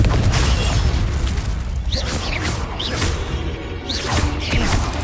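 A Confringo blasting curse detonates in Hogwarts Legacy as a heavy boom with whooshing spell bursts during a magical duel, several swishes cutting through the sustained rumble.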